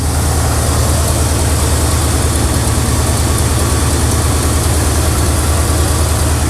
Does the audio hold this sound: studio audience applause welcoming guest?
no